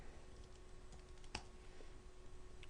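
Quiet, scattered key clicks from a computer keyboard while code is typed, faint and close, with no voices.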